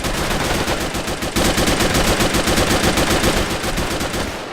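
A Johnson LMG machine gun fires in the World War II strategy game Men of War: Assault Squad 2, a loud, close, rapid and steady stream of automatic shots that continues with sharp rhythmic cracks and no voices over it.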